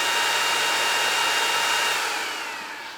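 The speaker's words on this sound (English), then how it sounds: "as soon as you initialize it, this very loud fan comes on" Loud cooling fan of a Longer Ray 5 20 watt laser engraver blowing with a steady broadband whoosh, close and alone, fading slightly toward the end.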